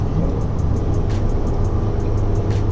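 Inside a Ford Foxbody with an 8.8 rear axle cruising in fourth gear at highway speed, the engine holds a steady low drone under constant road and wind noise.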